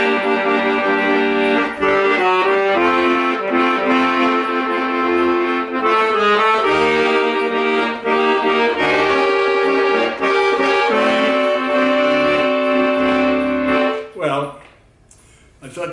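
An accordion plays the chords of Miserlou, sustained and full, with a steady rhythm of chord changes throughout before breaking off near the end.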